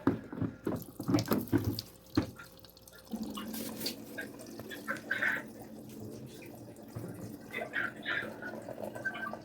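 Water pours into a cooler as an herbal tea of ginger and moringa leaves is made, splashing and gurgling at first, then settling into a steadier, quieter trickle.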